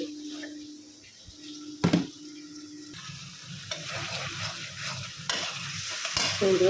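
Spices sautéing in a pan for eggplant curry, with steady stirring scrapes and a low sizzle. A couple of sharper clatters come from the utensil against the pan.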